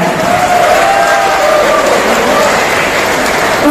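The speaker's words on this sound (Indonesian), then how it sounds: "Berikan tepuk tangan yang meriah" Applause from a police academy audience at a public lecture, a steady dense wash of clapping filling the hall with crowd noise throughout.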